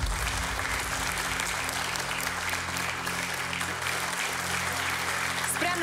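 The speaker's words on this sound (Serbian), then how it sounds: "ali ovo je za aplauz, što da ne" A studio audience on a quiz show claps steadily throughout, a dense sustained burst of applause with a low background hum underneath.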